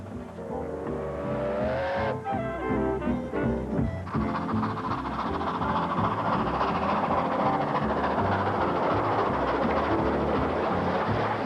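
A nostalgic steam train running: a loud, steady rumble and roar that builds after a brief lull and holds at full strength, heard close with no talk.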